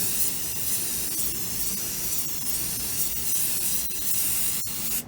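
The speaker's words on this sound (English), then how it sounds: "So what we're doing here is we're just kind of spraying this." Spray primer hisses steadily from an aerosol can onto PVC material, a continuous close airy spray with brief interruptions near the end.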